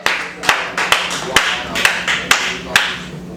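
Scattered, uneven hand claps from a small audience at an open mic comedy show on a cruise, about eight sharp claps over a few seconds, close and fairly loud, with no voices over them.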